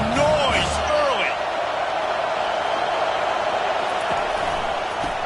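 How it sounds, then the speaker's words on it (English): A packed college football stadium crowd at Michigan vs Iowa roars steadily at a loud, sustained level throughout, with faint whistle-like tones early on and no clear talk. "This crowd bringing the energy and noise early."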